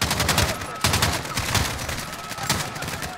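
Dense gunfire from the video game Call of Duty Modern Warfare (2019) campaign rattles continuously in rapid overlapping bursts, loud and close, with shots cracking from several directions at once.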